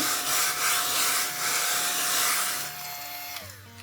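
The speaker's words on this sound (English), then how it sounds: "There's like all this dust, but that's what we have cute little desk vacuums for." A small desk vacuum whirs loudly and steadily as it cleans dust off a thrifted jewelry box, its motor pitch sliding down and fading as it switches off near the end.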